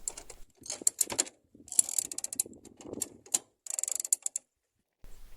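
A halyard is winched to bend a sailboat rudder, giving close clicking ratchet bursts and mechanical rattles in uneven spurts with short silent gaps.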